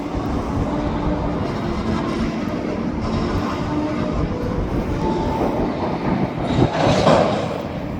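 A freight train of autorack cars owned by a leasing company, seen from an overpass near Trapp Yards in New Westminster, rolls past in a loud, continuous rumble of wheels and rattling cars, swelling slightly near the end, with no talk.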